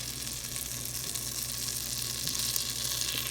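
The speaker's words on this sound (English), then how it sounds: "just melt the butter" Butter melts and sizzles in a pan for a hen recipe, a steady close crackling hiss with no talking.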